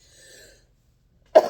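A single sharp cough with throat clearing bursts out close and loud after near silence, brief and abrupt.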